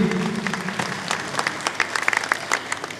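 Theatre audience applauding to welcome the cast of a stage comedy, a dense steady clapping that swells with sharper individual claps toward the end, no talk over it.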